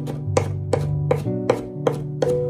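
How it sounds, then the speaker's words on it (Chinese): Garlic slices are minced with a kitchen knife for a shrimp and scrambled egg dish: a steady series of about seven sharp, close chops at an even pace, heard alone without speech. "蒜片切好以后再改刀把它剁成蒜末"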